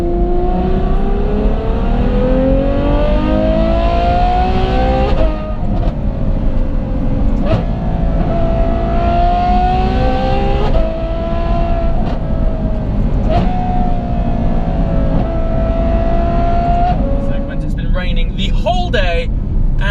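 A Novitec N-Largo Ferrari F12 V12 engine drones loud and close, rising through repeated accelerations and gear shifts, with talk over the engine noise.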